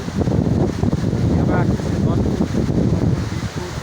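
Sea waves at Teknaf Shahpuri beach roll in with a continuous, loud, close roar. Wind buffets the microphone throughout.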